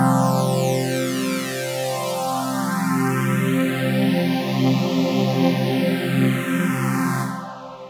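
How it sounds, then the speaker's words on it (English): A detuned Serum synth pad is run through a phaser, EQ and reverb. A sustained, loud chord carries a slow sweeping whoosh that rises and falls across the sound, ending with a slight cutoff of the highs. "And if we add a phaser on top of that, it sounds like this."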